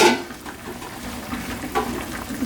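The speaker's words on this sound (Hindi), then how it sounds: "ये पानी उबलना शुरू हो गया है" Water coming to a boil in a covered pot for chana pulao, giving a steady soft bubbling and hissing rumble that continues alone with no voices.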